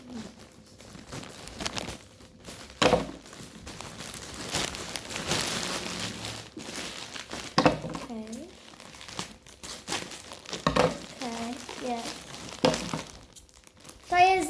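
Wrapping on a parcel crinkles and tears in irregular bursts as it is opened up close, while someone talks over it at intervals.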